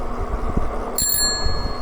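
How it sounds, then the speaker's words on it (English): A loud, bright ring from the bell on an electric bike, a single trill with a long shimmering tail that sits close and over low road or outdoor rumble. "This is a nice loud bell."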